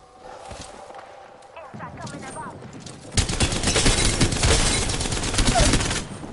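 Gunfire in the video game Apex Legends on the Worlds Edge map: rapid bursts of automatic shots grow dense and loud in the second half, with footsteps and game voice lines mixed in.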